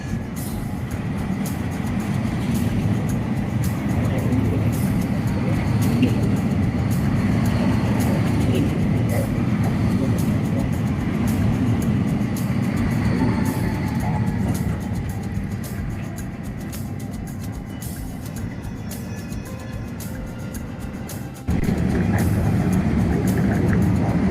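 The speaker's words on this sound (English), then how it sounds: "One of the modern electric trams crossing the upper deck of the bridge." A modern electric tram rumbles steadily across the upper deck of a bridge in Porto, a continuous mechanical roar with rail noise, dipping briefly near the end before resuming.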